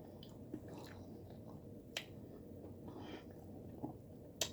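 Someone chewing Church's fried chicken close to the mic, soft wet munching with occasional sharp crunchy bites, quiet and without talk.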